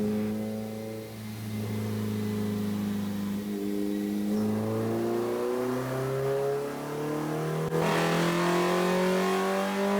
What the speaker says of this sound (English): we actually can degree a B16 engine, dyno it like this